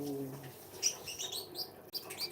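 Small bird chirps come in short bursts, high and quick, fairly close in a quiet room.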